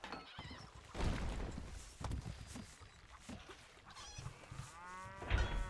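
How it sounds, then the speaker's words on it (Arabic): A horse whinnies and neighs repeatedly amid a busy, layered mix of sounds in the video game Stronghold: Crusader, with rhythmic thumping galloping hoofbeats underneath and a final loud whinny near the end. "الفرس تعدو"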